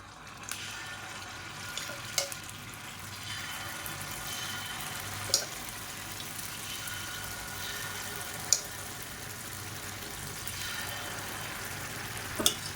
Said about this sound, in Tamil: எண்ணெய் நல்லா சூடாயிடுச்சு ஒவ்வொரு புளியிலையும் அப்பமாக ஊற்றிக்கலாம்